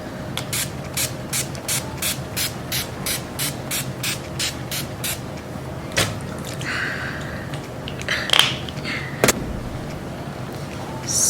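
LA Girl Satin Pro setting spray misted onto a face in a rapid run of about a dozen short, even bursts, then a few more scattered spritzes, close and fairly loud over a quiet room.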